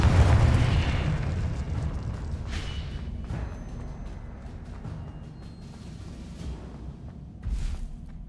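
A Confringo blasting spell goes off in Hogwarts Legacy on PS5 with a heavy explosive boom, then a long low rumble, and a second, softer burst near the end.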